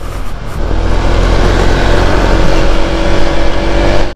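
Honda ADV 160 scooter being ridden, a loud, close, steady engine drone with wind rush that holds throughout and cuts off abruptly at the end.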